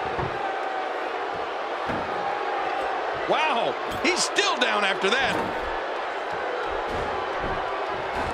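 Arena crowd noise from the WWE 2K16 wrestling video game, a steady roar that swells with cheers around a big move, running under excited commentary voices throughout.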